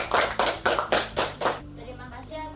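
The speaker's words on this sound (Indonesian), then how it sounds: "Ini tepuk tangan." Six loud, evenly spaced hand claps ring out close by, then stop, leaving a faint tonal hum and soft voices.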